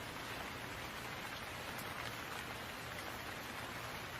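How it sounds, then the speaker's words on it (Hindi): Steady rain pours down over a village, a dense even hiss of drops lasting throughout with no voices. "बारिश बारिश आ गई।"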